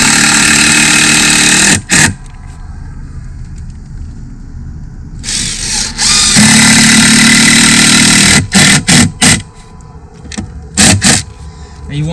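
A power drill drives screws into deck boards while deck stairs are built, a loud steady whir broken by short pauses and a cluster of quick trigger bursts near the end.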